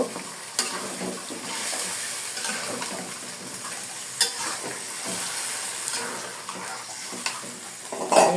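Beef cooking with bottle gourd is stirred in a wok that sits unevenly on the stove, giving a steady sizzle broken by occasional sharp knocks from the wok and spoon, close and without speech.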